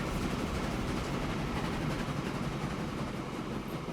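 A train running in the video game Transport Fever 2, a steady loud rolling rumble with faint rhythmic clatter that continues unbroken throughout.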